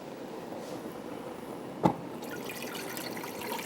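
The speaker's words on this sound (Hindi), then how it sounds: "मैं थोड़ा सा इसमें पानी ऐड करके इसको उबलने के लिए रख देती हूँ" Water trickles and splashes steadily into a pot for boiling khichdi, a soft continuous pouring with one brief sharp knock partway through.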